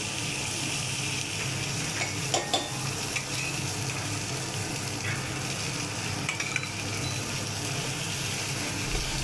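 Pulao stirred and frying in a pan in a home kitchen, a steady bright sizzle with a few scraping stir strokes and light clinks of utensil against metal, close and continuous with no talking.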